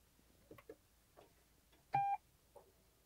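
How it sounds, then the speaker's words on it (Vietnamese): A Toyota Yaris Cross gives a single clear electronic ready beep when its start button is pressed, a steady tone of about a quarter second, standing out against faint cabin noise and a few soft clicks. "Ngay khi mà nhấn vào nút khởi động thì chữ ready hiện lên kèm theo một âm thanh bíp."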